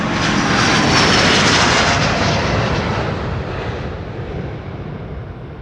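A Delta Airlines jet, flight 133, at Amsterdam Schiphol Airport: a loud, close engine roar that swells in the first second or two and then slowly fades as it moves away, with no voices.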